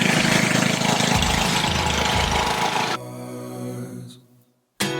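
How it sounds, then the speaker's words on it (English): A lawn mower engine runs loud and rough, then drops to a quieter idle before cutting out, with a short burst of noise at the very end. "Oh, the lawnmower."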